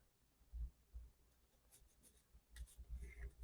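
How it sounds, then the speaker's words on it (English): A pencil drawing lines across paper while marking out corners for a birthday card, with quiet scratchy strokes in short bursts and faint rustling between them, close and soft. "I'm going to go ahead and just use a pencil and draw this across"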